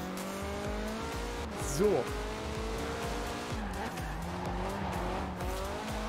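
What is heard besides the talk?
car driving with tire squeal in Forza Horizon 4 video game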